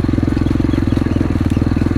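A four-stroke motocross motorcycle engine with strong low-end torque idles close by, its steady, even low thump and clatter running through the whole stretch with no other sound over it.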